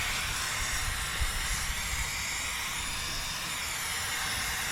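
A spray can sprays Fluid Film onto a car underbody as a steady, loud, close hiss that runs unbroken without voices.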